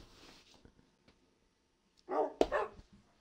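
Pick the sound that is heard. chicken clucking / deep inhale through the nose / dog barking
dog barking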